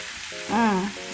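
Liver frying in a pan sizzles with a steady hiss while spices are stirred in, and a brief squeaky tonal scrape rises in the middle of the short stretch.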